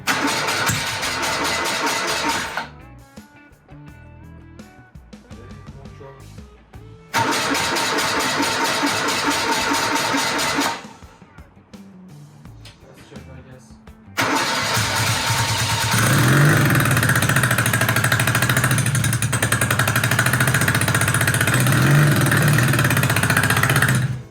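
A BMW Airhead motorcycle engine cranks and sputters, cuts out, tries again, then catches and settles into a loud, steady running rumble with mechanical clatter.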